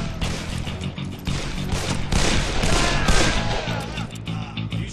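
Dense gunfire from a Western-themed shooter game, Call of Juarez: Bound in Blood, with rapid overlapping shots keeping up a loud, continuous barrage throughout.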